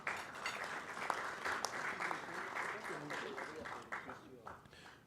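Room full of Rotary Club members applauding guests at a meeting in Buenos Aires, dense steady clapping with a few sharper claps, moderately loud throughout with faint voices mixed in.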